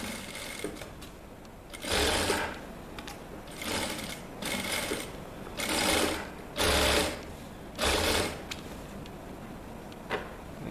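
Sewing machine stitching a shirt, running in about six short bursts of steady whirring with brief pauses between, close and fairly loud with no talk.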